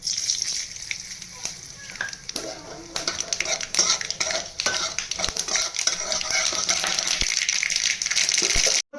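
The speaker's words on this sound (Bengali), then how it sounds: "এবার ওই তেলেতেই আমি শুকনো লঙ্কা একটা আর সর্ষে কিছুটা ফোড়ন দিয়ে দেবো" Dried chilli and mustard seeds sizzle and crackle in hot oil left from frying fish and aubergine, with scattered sharp pops and spoon scrapes against the pan throughout, close and steady.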